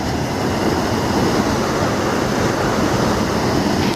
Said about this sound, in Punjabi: ਨਹਿਰ ਦਾ ਇੱਕ ਸ਼ਾਂਤ ਮਾਹੌਲ ਜਾਂ ਪਾਣੀ ਦੀ ਆਵਾਜ਼